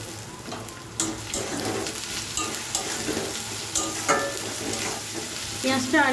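Onion and garlic sizzle steadily in hot oil in a pan while being stirred with salt, giving a continuous close frying hiss broken by scraping stir strokes, with no talking.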